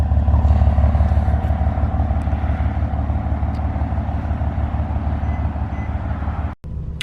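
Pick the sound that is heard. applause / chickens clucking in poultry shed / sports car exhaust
sports car exhaust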